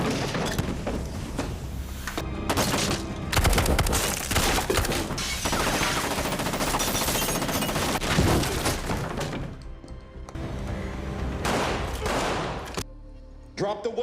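A film shootout brings long stretches of rapid, loud gunfire, with bursts of shots and crashing impacts broken by brief pauses, and the volume stays high throughout.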